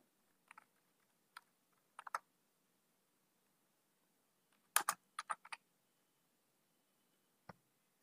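Password keys tapped on a computer keyboard, sparse quiet clicks in small clusters separated by pauses, with a final lone keystroke near the end.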